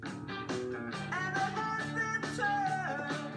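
Electric guitar plays a riff, a run of ringing picked notes in a quick repeating pattern, clear and close, with no voice over it.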